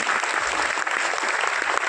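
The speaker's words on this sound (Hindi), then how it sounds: "एक बार डॉक्टर शर्मा के लिए जोरदार तालियां होनी चाहिए।" Dense, steady applause from a seminar audience in Punjab, many hands clapping together at full volume throughout, with no voices over it.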